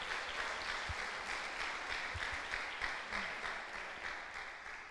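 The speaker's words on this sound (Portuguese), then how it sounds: "eu quero que vocês recebam com a salva de palmas" Steady audience applause fills a church conference hall, a dense continuous wash of clapping with a few louder claps near the front, sustained evenly for the whole stretch.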